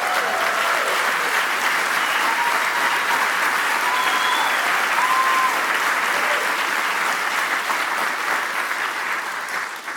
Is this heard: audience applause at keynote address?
yes